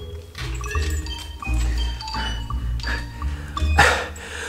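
A young puppy barks a few times close by, short yips over a low rumbling background with a faint ringing tone.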